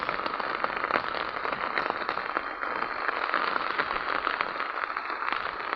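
Steady rain patters on a farm, with a dense, even crackle of drops hitting surfaces at close range and no voices.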